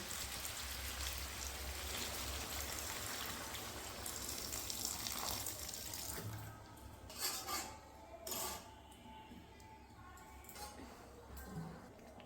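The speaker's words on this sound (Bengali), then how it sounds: "এখন আমি পরিমাণ মতন একটু জল দিয়ে দেবো।" Water is poured into a pan of mixed vegetables on the stove, giving a steady splashing, sizzling wash for several seconds that thins into scattered drips and small clinks of cookware.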